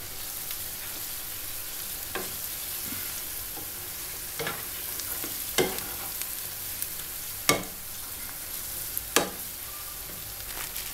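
A pinch of dried rosemary is stirred into a sizzling pan, a low constant frying hiss punctuated by several sharp spoon clinks and scrapes at irregular intervals, near and without voices.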